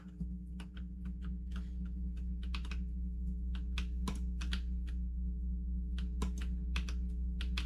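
Computer keyboard keys pressed in an irregular run of sharp, close clicks while playing a precision platformer game, alone over a steady low electrical hum.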